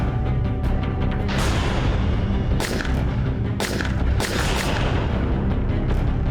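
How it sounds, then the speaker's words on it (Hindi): Rapid gunshots fired in a dramatized crime scene, with sharp cracks in bursts over a constant loud rumbling backdrop, several close shots standing out amid continuous firing noise. "मैंने रोहित को गोलियों से मार दी"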